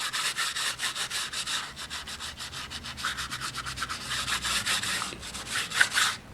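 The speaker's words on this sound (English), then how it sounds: "So all you're doing now is you're just really rubbing it into the tiles now." Compound being rubbed by hand into the grooves of roof tiles, a steady rhythmic scraping and rubbing with quick repeated back-and-forth strokes, close and moderately loud for about six seconds.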